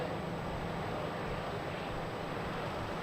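Aircraft at Melbourne Airport produce a constant, broad engine roar with a thin high tone, steady and fairly loud, heard at a distance with no talk.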